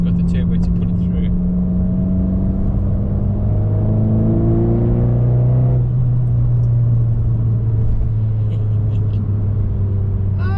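Abarth car engine with a Garrett turbo, revving up with a rising whir and rumble, then dropping back to a steady drone, heard loud and close from inside the car.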